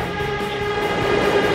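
A steady rumbling hum with a low mechanical drone inside a moving New York City subway car, continuous and even with no talking.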